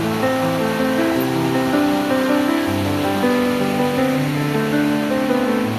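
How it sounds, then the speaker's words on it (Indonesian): A small, clear river flowing past a campsite in cool misty highland near a waterfall, a steady close babble and rush of water that never lets up. "Jadi kalau kita camping bisa terdengar gemericik airnya."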